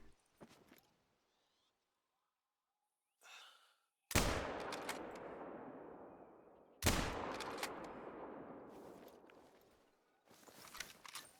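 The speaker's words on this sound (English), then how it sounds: "Okay, got 2 shots in." Two loud, close rifle shots in theHunter: Call of the Wild, spaced a few seconds apart. Each has a sharp crack and a long, fading echo across a frozen desert landscape, with quieter rustles and a short breathy sound before them.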